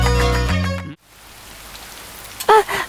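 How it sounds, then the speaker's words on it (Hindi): Heavy night rain falls as a steady broadband hiss, entering after a burst of loud music cuts off, with a short voice breaking in near the end. "तेज बारिश हो रही है"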